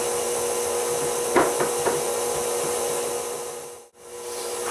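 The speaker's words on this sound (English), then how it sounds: "we're just going to whisk those dry ingredients together" Dry baking ingredients, including baking powder and salt, whisked together in a bowl; a steady close scraping rustle with a few louder knocks against the bowl around the middle, then a brief pause.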